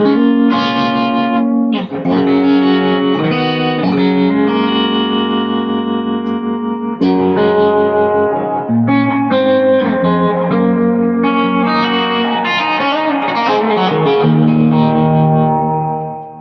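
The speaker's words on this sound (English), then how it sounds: "Third preset on the Nebulus is just a basic tremolo." Electric guitar chords pulse with a steady tremolo wobble from a Nebulus pedal preset, the volume throbbing rhythmically across a loud, sustained passage with a few brief pauses.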